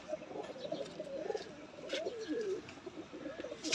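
A breeder's pigeon gives soft, repeated rolling coos, close but quiet, against a faint background hum.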